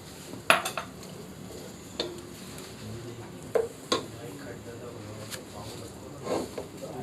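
Olives and mushrooms cooking in a pan for fettuccine alfredo, with scattered sharp clinks of a utensil against the pan over a low, steady cooking hiss; a voice talks throughout.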